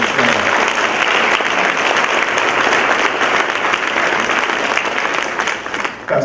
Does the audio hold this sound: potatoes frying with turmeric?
no